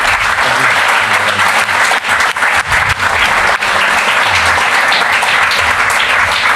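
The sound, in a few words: audience applause thanking Douglas Coupland and Hans Ulrich Obrist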